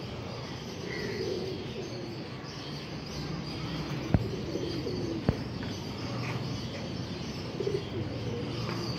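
Pigeons cooing softly amid steady outdoor background noise, with a couple of sharp clicks near the middle.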